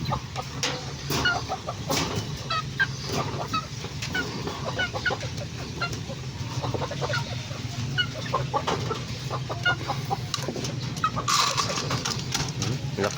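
A flock of chickens clucks busily and continuously at close range, with many overlapping clucks and squawks over a low steady background and no talk.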